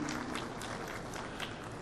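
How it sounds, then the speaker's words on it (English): Faint, distant audience applause at an accounting professionals' CFO conference in Karachi, a steady dense patter of many hands filling the room evenly throughout, with no voices over it. "A lot of applause for them as well"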